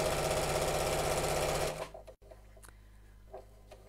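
A sewing machine stitching piping onto fabric runs in a steady, fast mechanical whir for under two seconds, then stops, leaving quiet room sound with a few faint taps.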